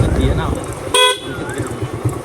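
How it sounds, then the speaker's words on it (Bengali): A motorbike horn gives one short, loud honk in the middle of a ride near a roadside market, with engine and traffic noise around it and people talking before and after. "দাদা মনে করো যে হর্ন লাগাইছে, তো প্রচুর সাউন্ড হচ্ছে হরেনে"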